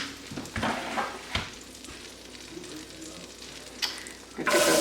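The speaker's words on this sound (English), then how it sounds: "I'm going to get those onions going." Onions for squash soup fry in a pan with an uneven sizzle, a few knocks and scrapes, and a louder burst of sizzling at the end.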